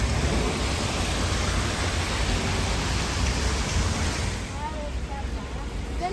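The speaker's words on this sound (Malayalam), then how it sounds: "ഇവിടെ പുറത്തിപ്പോൾ കുറച്ച് മഴ കൂടിയിട്ടുണ്ട്" Rain falls outside near Lake Bohinj in Slovenia, a dense, steady hiss of drops that eases slightly toward the end, heard from indoors.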